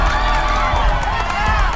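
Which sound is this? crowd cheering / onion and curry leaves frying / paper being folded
crowd cheering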